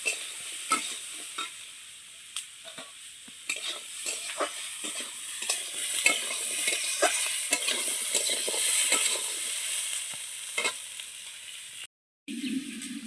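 Boiled jackfruit-seed potatoes fry in a pan of spices with a continuous sizzle, punctuated by frequent scraping stirs and clicks from the spatula, close and fairly loud, briefly cutting out near the end.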